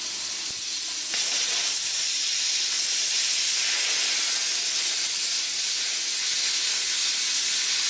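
Compressed air hisses loudly and continuously from the drain valve of an air compressor tank, starting with a short burst and then holding steady close by.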